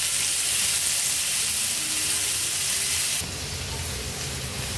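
Chopped onion with green chili and ginger-garlic paste fries in a pan for a Marathi dahi aloo sabji, making a loud, dense, continuous sizzling hiss that drops slightly and turns lower and fuller partway through.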